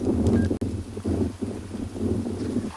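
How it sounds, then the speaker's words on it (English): Strong wind buffets the microphone outdoors on a South African morning safari drive, producing a continuous low rumble with gusting swells and one sharp dropout. "Oh, it's very windy here today."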